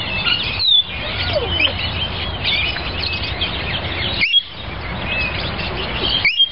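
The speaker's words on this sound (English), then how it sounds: "Rainbow lorikeets from Australia." Rainbow lorikeets in a heavily meshed aviary at Ashburton, New Zealand, giving shrill, high chattering chirps and screeches close by, continuous with short pauses.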